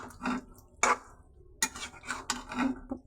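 A metal lid clatters onto a cooking pot in a home kitchen, with several light clinks and taps in an irregular rhythm, close and fairly quiet.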